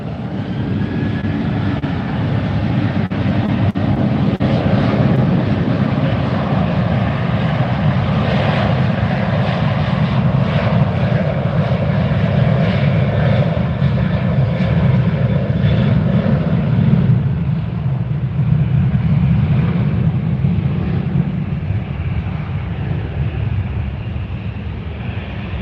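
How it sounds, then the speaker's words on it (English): A Spirit Airlines airliner arrives at Fort Lauderdale, its engines producing a loud, sustained roar that holds steady and then eases slightly toward the end, with no talk over it. "We got a Spirit Airlines incoming"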